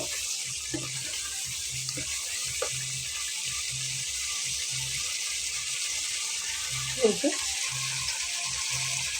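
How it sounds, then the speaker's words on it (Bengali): Beef rubbed with salt, turmeric and red chili powder goes into a well-fried spice paste in hot oil for Bengali beef curry, giving a steady, even sizzle with a few soft clatters. "তো এখন আমি এর ভেতরে মাংসটা দিয়ে নেব।"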